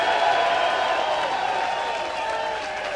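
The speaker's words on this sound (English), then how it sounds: "Let's give a big round of applause to Nate Sexton." A crowd applauds at a disc golf world championship, a dense, steady wash of clapping with some cheering mixed in, sustained and fairly loud throughout.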